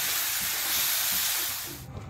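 Capsicum tipped into a hot pan with ginger and garlic, setting off a loud, steady broadband sizzle that swells and then eases off at the end, with no talk over it.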